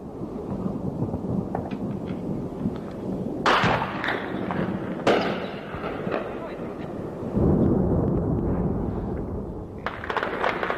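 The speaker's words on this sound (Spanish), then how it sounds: "Siguen las explosiones en el aeropuerto" Deep, rumbling explosions boom in the distance at an airport during the Falklands War, several heavy blasts rolling like thunder, with voices faintly audible underneath.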